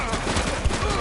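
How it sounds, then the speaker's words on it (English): A brief burst of rapid gunfire in The Precinct video game, several quick, loud overlapping shots packed into about a second, with one sharper report standing out near the end. "Shots fired!"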